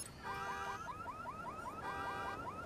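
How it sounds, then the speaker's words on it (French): A hacked car alarm in the Watch Dogs video game wails in a fast repeating warble of rising chirps, loud and continuous with no talking. "Regardez, on peut déclencher l'alarme d'une voiture."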